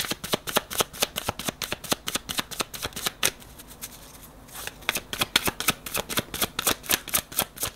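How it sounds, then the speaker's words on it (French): Tarot cards are shuffled in quick, crisp riffling bursts, pausing briefly midway before the rapid flicking resumes, close and clear with no talking. "J'ai envie de tirer 3 cartes pour ce nid."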